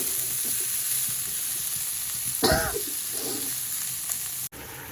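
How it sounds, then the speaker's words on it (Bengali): Eggplant slices fry in a pan, a steady bright sizzle running throughout, with a brief louder burst of spattering partway through and a short cut near the end. "আর এখানে বেগুন ভাজি করতেছি সকালের জন্য"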